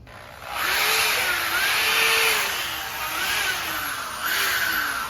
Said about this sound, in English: Down here, I got to reverse the drill.